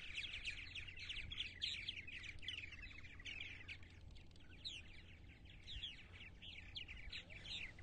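Purple martins chatter and chirp in a busy, continuous flock on eastern Long Island on a May morning, with overlapping twittering calls over a low background rumble and no talking.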